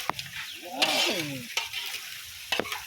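Fried chicken neck stirred into a spicy sweet-and-sour sauce, with a soft sizzle, a few sharp utensil scrapes and clacks against the pan, and brief squeaky stirring sounds, close and fairly quiet.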